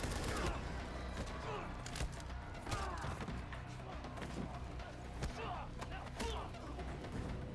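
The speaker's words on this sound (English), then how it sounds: "Did you really just open fire in a public area?" Gunfire breaks out in a public area in the game Quantum Break, with dense bursts of shots and impacts layered over a busy, continuous din of action sounds.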